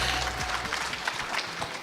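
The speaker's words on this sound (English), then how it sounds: "Let's give him another big round of applause." Audience applause at a national ICT summit in 2024, a short steady burst of clapping from the crowd that fills the hall evenly with no pauses.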